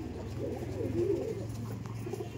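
A male Andhra Madrasi pigeon in a loft gives a short, low, throaty coo up close, set against a steady low hum.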